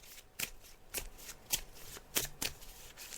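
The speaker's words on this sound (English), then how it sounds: "so I'm just shuffling the cards now, Andrea," Quick bursts of tarot cards being riffled and bridged, five crisp rustling shuffles spaced about half a second apart, close and clear with no talking.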